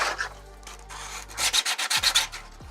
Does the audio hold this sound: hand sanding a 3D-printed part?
yes